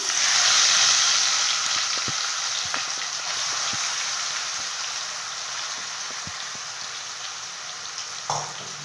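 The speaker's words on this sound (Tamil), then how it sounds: "எண்ணெய் சூடாச்சு, கடுகு போட்டுக்கலாம்." Mustard seeds crackle in hot oil as mutton for chukka fries, giving a continuous bright sizzle with scattered sharp pops and clicks that settles slightly quieter over time; no talking.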